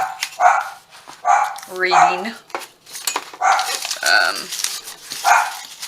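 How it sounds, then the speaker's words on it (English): A dog barks repeatedly in short bursts at an irregular pace, fairly close, while a person talks over and between the barks. "Sorry about the dog barking."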